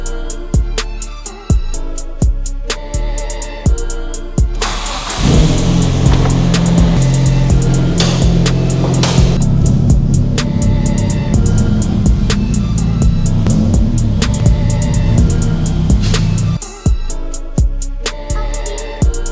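A Nissan Silvia runs on a temporarily fitted battery while being moved out, its engine giving a steady, low idling hum for about twelve seconds, with music playing before and after.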